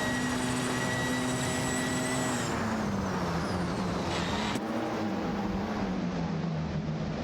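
Engines of racing cars roar continuously in a video game race, an SSC Ultimate Aero TT and a Holden Torana A9X among the field, with pitch sweeping down and up as cars pass and shift; loud and steady throughout.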